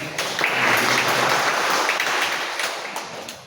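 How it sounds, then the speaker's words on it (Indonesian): An audience at a church service applauds the multimedia team with a dense, sustained burst of clapping that fades toward the end. "Tepuk tangan untuk bagian multimedia"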